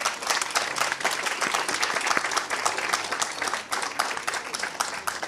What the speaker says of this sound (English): Let's give Teamworks and the British Library a huge clap